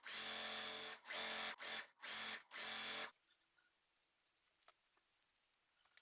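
A sewing machine stitching quilt block seams runs in four or five loud bursts of fast mechanical whirring separated by brief pauses, then stops, leaving faint quiet handling noises.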